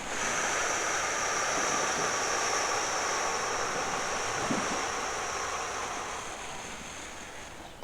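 Ocean waves at the seashore make a steady, continuous wash of surf that stays even and unbroken, with no voices over it.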